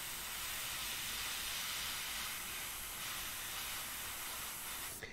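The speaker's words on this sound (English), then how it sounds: "If you're spraying this way, there's going to be a lot less overspray because the air and energy is going this way" An airbrush sprays paint onto a portrait in a steady, even hiss of compressed air that runs unbroken for about five seconds, close and fairly quiet, with no talking.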